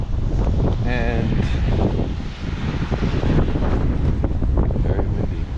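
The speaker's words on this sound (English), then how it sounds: "very windy" Strong wind buffets the microphone outdoors on a city street, a loud, continuous rumbling roar with gusts, while a voice speaks briefly beneath it.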